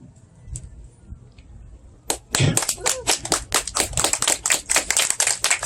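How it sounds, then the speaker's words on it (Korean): Audience applause after a poetry reading breaks out suddenly after a quiet stretch, sharp dense claps continuing steadily to the end. "제가 과격한 발언을 했는데 박수를 쳐주셔서 너무 감사합니다"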